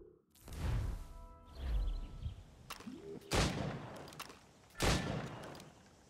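Gunshots fired at targets in the video game Assassin's Creed Rogue: several sharp, loud blasts spaced a second or more apart, each with a brief rumbling tail.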